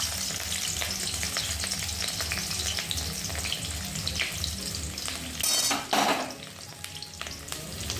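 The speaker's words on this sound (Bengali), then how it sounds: "চেরা পেঁয়াজ কাঁচা লঙ্কাটা আমি তেলের মধ্যে দিয়ে দিলাম" Sliced onion and slit green chillies frying in hot oil produce a dense, steady sizzle with crackling pops and a rhythmic low rumble beneath, briefly interrupted by a louder clatter and rustle near the end.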